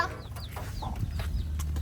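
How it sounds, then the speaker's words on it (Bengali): Hens cluck softly inside a chicken coop beside a duck house, a few short low clucks and faint squeaky notes over a rumbling background, fairly quiet and brief. "মুরগির বাসা"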